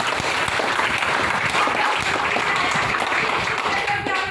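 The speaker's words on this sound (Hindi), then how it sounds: "तालियां आप लोगों के लिए" An audience at a motivational meeting bursts into applause, heard as a dense, loud wash of many hands clapping at once. It stays steady throughout, with some crowd noise mixed in.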